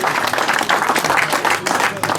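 Audience applause for a prize winner at a French feeder fishing championship results ceremony, steady clapping throughout with some crowd murmur mixed in.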